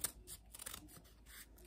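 Dull scissors snipping through craft material for a Christmas bonnet ornament, a quick series of soft, close crisp snips repeating in an uneven rhythm, fairly quiet with no talking.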